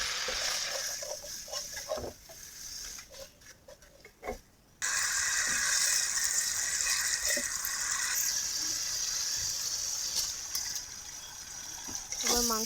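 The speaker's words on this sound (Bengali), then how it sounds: "একটু পানি দিয়ে দেব।" Water is poured into a pan of chicken and bottle gourd curry, a steady close gushing splash that runs for several seconds after a brief quieter stretch of kitchen stirring.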